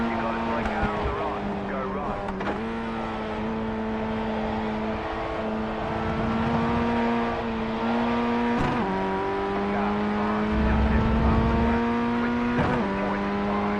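Race car engine in a racing video game holding a steady droning tone throughout, with brief dips and surges as the throttle lifts and reapplies, loud and continuous.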